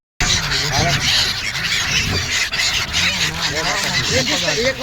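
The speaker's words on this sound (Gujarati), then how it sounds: "ગંગા જમના સરસ્વતી ની અંદર પંખીઓને તાજે તાજા ગાંઠિયા ખવડાવે છે" A crowd of birds being fed fresh gathiya snacks at Triveni Sangam in Prayagraj squawks and honks loudly and continuously close by, with people talking underneath.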